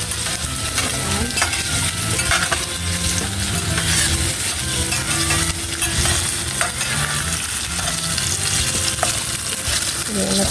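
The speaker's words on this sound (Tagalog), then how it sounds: "Unahin talagang lutuin yung hotdog mga idol." Hotdogs sizzle loudly in a frying pan while being stirred, with steady frying crackle and scraping utensil sounds throughout, no voices.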